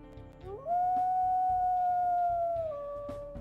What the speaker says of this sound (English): sticking with the family trend of having a much higher pitched secondary howl